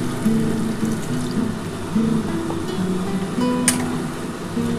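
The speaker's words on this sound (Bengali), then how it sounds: "দেখো আর একটু জল দিয়ে দিলাম" Water poured into a fish curry frying in oil with potatoes, making a steady close rush and bubbling over a low hum, with one brief sharp clink near the end.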